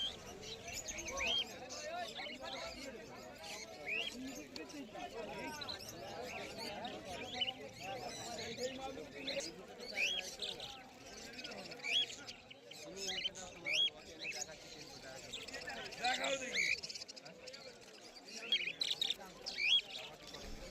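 Cockatiels and budgerigars at an outdoor bird market chirp and tweet in scattered bursts, with a faint cooing and a mix of people talking around them.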